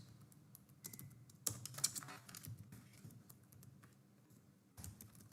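Typing on a computer keyboard: quiet, irregular clusters of key taps with a few sharper presses, close and soft in a quiet room, with no talking.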